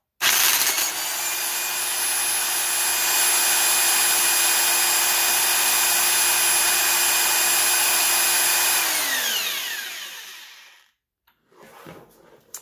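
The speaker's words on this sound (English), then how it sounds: "I'll show you guys while I use my impact gun" An impact gun spins a Honda Civic/CRX alternator on a bench test: a loud, steady high-pitched whine with sharp tonal harmonics holds for about eight seconds, then winds down as the tool releases, followed by a few faint knocks.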